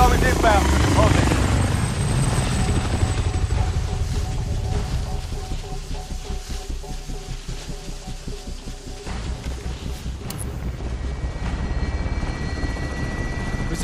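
Helicopter arriving in the online shooter COD Warzone, a steady rotor and engine roar that holds loud and close throughout, with a rhythmic chopping pulse emerging in the second half.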